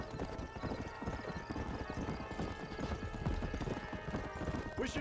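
A horse in the video game Red Dead Redemption gallops with rapid, continuous hoofbeats close up. A brief whinny-like cry comes near the end.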